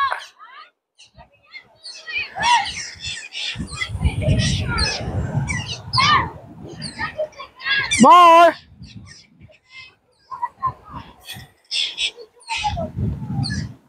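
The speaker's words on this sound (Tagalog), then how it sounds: "Ayun, ang daming ibon guys." Bird calls, including a honking goose-like cry, ring out among people talking nearby; one person shouts briefly.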